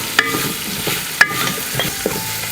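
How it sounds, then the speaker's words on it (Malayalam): Sliced onions and green chillies fry in a pan while a utensil stirs them, giving a few sharp scrapes and clinks over a steady, close sizzle. "ഒന്ന് വഴന്ന് വരുന്നവരെ നമുക്ക് ഇളക്കി കൊടുക്കാം."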